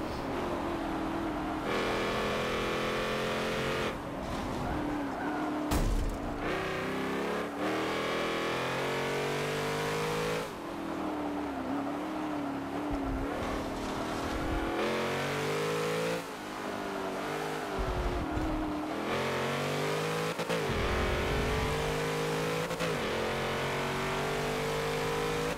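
Nissan Skyline GT-R engine in a multiplayer racing game, loud and close, revving hard through repeated gear shifts and throttle lifts for the whole stretch with no talk.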